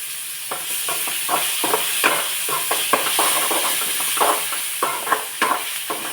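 Onion and tomato frying in a pan with salt, a continuous close sizzle broken by repeated scraping, stirring strokes in an uneven rhythm.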